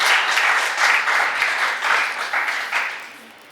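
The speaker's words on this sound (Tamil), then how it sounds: "வருக வருக என பலத்த கைத்தட்டலோடு" Warm audience applause at a Tamil literary society's launch of two poetry books, a dense, steady wave of many hands clapping, fairly loud and close, fading slightly toward the end with no talk over it.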